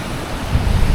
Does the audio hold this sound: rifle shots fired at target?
no